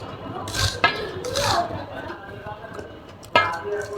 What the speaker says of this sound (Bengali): আর অর্ধেক আমি এভাবে কুচি কুচি করে কেটে নিব।